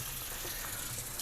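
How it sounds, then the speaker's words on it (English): Tap water runs steadily into a sink, splashing over a moss pole held under the stream for a houseplant, a continuous close gush with no talking. "I'm just wetting the moss pole."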